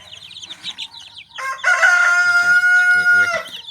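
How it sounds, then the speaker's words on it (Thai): One-month-old chicks kept warm inside a car-tyre brooder, raising a loud, continuous chorus of shrill calls that builds after a quieter start. "อันนี้คือลูกไก่อายุหนึ่งเดือน"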